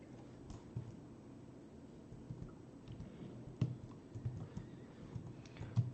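Horse neighing in a forest-themed video game, a faint whinny with soft clip-clop hoof steps and scattered clicks over a steady background ambience.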